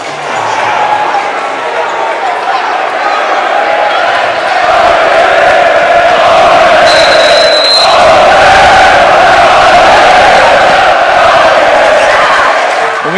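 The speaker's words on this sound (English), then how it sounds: "we're going to let the crowd do it for you" A loud basketball crowd roars and cheers throughout a high school varsity game against Saint Patrick, a sustained wall of voices swelling slightly midway, with shouts and a ball bouncing underneath.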